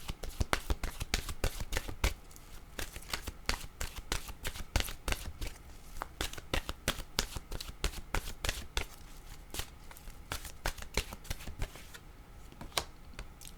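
A deck of oracle cards shuffled by hand, giving rapid rippling riffles and crisp flicking clicks in quick succession, close and fairly quiet, continuing steadily throughout.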